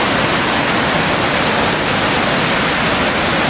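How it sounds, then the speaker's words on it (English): Dense, roaring rush of a waterfall pouring off a snowdrift beside a mountain road fills the whole clip, loud and unbroken, with no voices. "Here's the waterfall coming down off that snowdrift"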